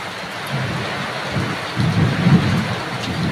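A thunderstorm with heavy rain: a constant loud downpour with a deep rumble of thunder swelling toward the middle and end.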